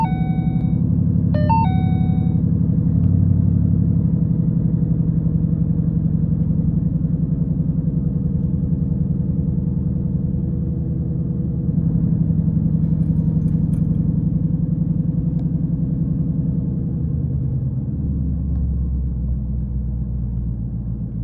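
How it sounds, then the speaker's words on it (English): A car engine idling steadily after a cold start, having sat unused for about 18 hours, producing a constant low rumble throughout with a brief faint chime near the start. "This is a cold start video. The car has not been started in approximately 18 hours."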